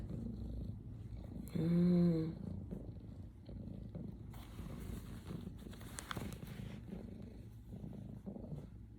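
A stray cat purrs faintly as a low, continuous rumble under room noise. One short tonal vocal sound rises briefly near the start.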